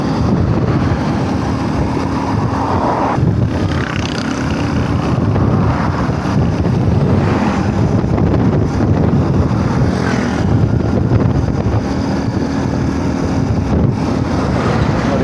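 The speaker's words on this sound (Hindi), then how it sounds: "बाकी हवा की अपना गड़गड़ाहट देख रहे होंगे" Strong early-morning wind buffets the microphone beside a road in Karachi, a steady loud rumble that runs the whole time with no voices.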